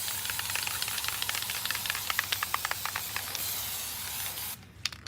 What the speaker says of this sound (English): So we give it a light spray so that way it kind of creates a barrier once it starts to tack up.